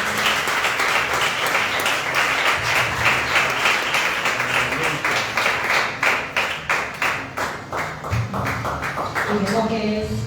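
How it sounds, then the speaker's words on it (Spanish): A church congregation claps loudly and steadily together, a dense sustained burst of applause with rhythmic slaps that thins slightly toward the end, voices mixed in. "Brinde un fuerte aplauso al Señor."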